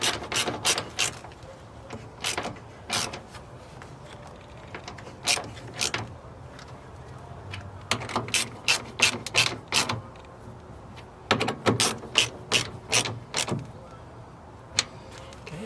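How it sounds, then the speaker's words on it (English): Hand ratchet tightening side mirror bolts on a 2019 Honda HR-V, with short bursts of rapid pawl clicking repeated many times, close and distinct over a quiet background. "Don't use a impact, use a hand ratchet."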